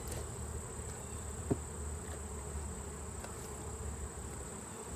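Honeybees humming steadily around an open hive during an October inspection of combined colonies with capped honey and large drones, a soft continuous insect drone with a brief sharp tap near the start, no talking.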